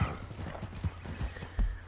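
A horse in the video game Red Dead Redemption 2 gallops with soft, evenly spaced hoofbeats, heard briefly and fairly faint without any talk.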